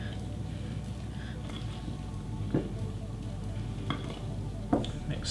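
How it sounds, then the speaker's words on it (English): Dry mix being folded into wet batter in a bowl, soft scraping and stirring strokes with a few brief clinks, fairly quiet under a low background hum. "Just want to fold and make sure you've got most of the dry mixed in with the wet."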